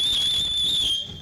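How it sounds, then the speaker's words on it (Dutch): A sharp finger whistle rings out in a single sustained high note that holds for about a second, loud and close, over faint background murmur. "Ik kan ook mijn vingers fluiten."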